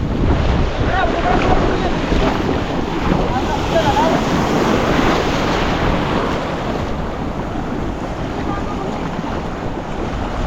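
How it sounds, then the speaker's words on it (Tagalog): Choppy sea waves wash steadily against the shore during a crab-catching outing, a continuous loud rushing surf with wind buffeting the microphone and faint voices now and then. "Medyo maalon dito."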